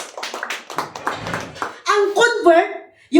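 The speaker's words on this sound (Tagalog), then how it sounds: "palapakan po natin" A church congregation applauding during a sermon, a spell of rapid scattered hand claps under a preacher's voice, followed by louder speech.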